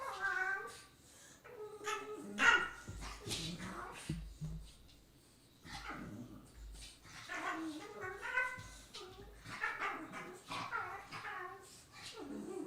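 A newly adopted dog named Benji whimpers, yips and gives short barks in bursts across the clip, close by, with people talking over and between the sounds.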